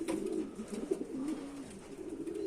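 Pigeons in a loft coo softly and continuously nearby, low rolling calls with a few brief higher sounds.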